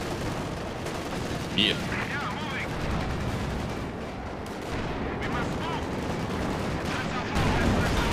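Anti-tank guns and artillery fire in a real-time strategy video game battle, with a dense, continuous rumble of repeated shots and blasts, and a brief voice reacting over it.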